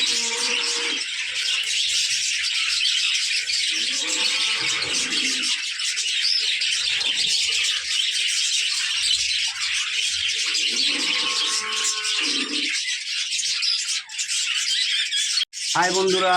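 Pet budgerigars in an aviary chirp and chatter continuously, with a dense, bright twittering that stays up close throughout, while a person talks intermittently over it.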